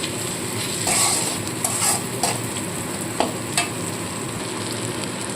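Ginger stir-fries in a pan, a steady close sizzle broken by a few crisp spatula scrapes and taps, with no one speaking.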